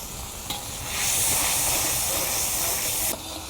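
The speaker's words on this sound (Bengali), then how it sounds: "আর এই পেঁয়াজ বাটাটা থেকে কাঁচা গন্ধ দূর হওয়া অবধি আমি এটাকে ভেজে নেব।" Onion paste fries in a pan for a restaurant-style ritha fish curry. A loud, close sizzle swells after a moment and holds steady, with stirring scrapes near the start and the end.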